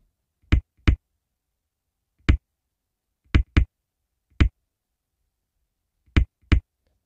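Percussive beat from the Incredibox Two Faces mod video game, heard as seven sharp, dry snap-like hits spaced irregularly with clear silence between them.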